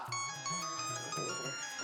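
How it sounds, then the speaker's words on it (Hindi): A mobile phone ringtone plays a bright, repeating electronic melody for an incoming call, steady and fairly loud with no talk over it. "अभी उनका फोन आता ही होगा।"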